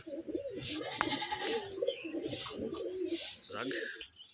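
Rajshahi Giribaz pigeons, a colour-matched male and female, coo in repeated soft, throaty phrases close by, with rustling between calls.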